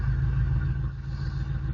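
Oldsmobile Delta 88 engine idling steadily after a cold start, a close, loud, even low rumble with no talk over it.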